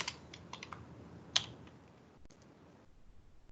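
Fast, faint typing on a computer keyboard during spreadsheet work, a quick run of close key clicks with one sharper tap.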